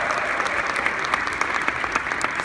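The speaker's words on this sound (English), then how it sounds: "So give a big round of applause to Nu Skin," A crowd at a Nu Skin SEA meeting bursts into applause, with dense, steady clapping and scattered sharper claps standing out.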